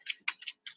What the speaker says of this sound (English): I hear somebody typing on the keyboard a fair bit